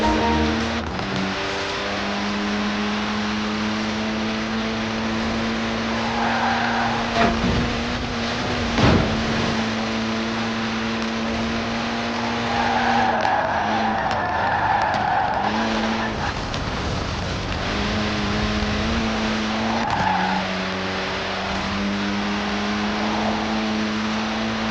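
Mini Cooper S engine droning steadily in Forza Horizon 4, with tire skids and squeals breaking through at intervals, close and loud throughout with no talk.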